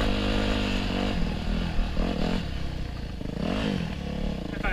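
A dirt bike engine drones loudly and continuously on a trail ride in Central Oregon, its pitch rising and falling with throttle changes, close and steady throughout with some rattling clatter.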